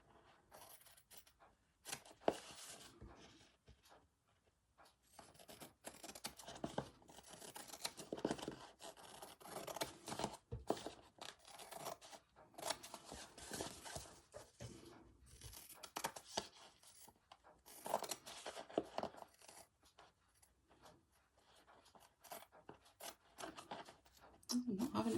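Fabric scissors snip and cut through fabric while upcycling a vintage sewing box, quiet close-up crunching and slicing strokes in irregular bursts, faint throughout.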